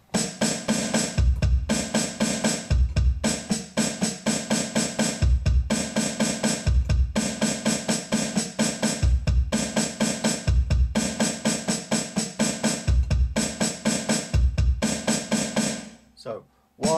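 Linear drum pattern played on snare and bass drum, with hi-hat in the mix; crisp, rapid single strokes in a repeating groove, close and steady for the whole stretch, ending abruptly.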